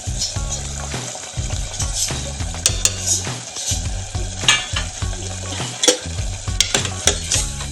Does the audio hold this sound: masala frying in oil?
yes